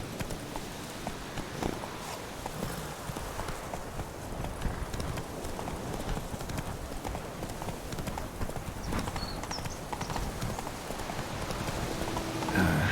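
A horse gallops in The Witcher 3: Wild Hunt, hooves pounding in a fast, even rhythm close by, with a rain-like wash behind and a brief voice over the top.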